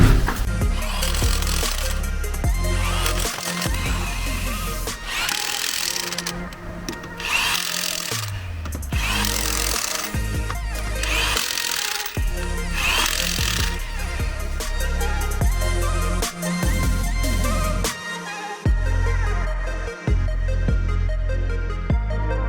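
A Ronix impact wrench tightening bolts, giving loud, close, sustained rattling hammering bursts broken by short pauses, with metallic clanks between runs.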